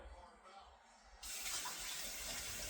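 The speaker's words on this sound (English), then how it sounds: "Now put 8 cups of water." Tap water gushes into a cooking pot of rice, starting quietly and then turning into a sudden steady, bright splashing stream that fills the rest of the moment.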